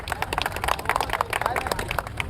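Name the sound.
crowd clapping hands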